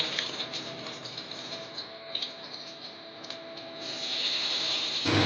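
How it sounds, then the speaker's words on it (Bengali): Boiled jackfruit pieces frying in hot oil, giving a close, steady hiss with soft crackles and small pops that swell toward the end, no voices. "সেদ্ধ করা এঁচড়গুলো হালকা লাল করে একটু ভেজে নেব"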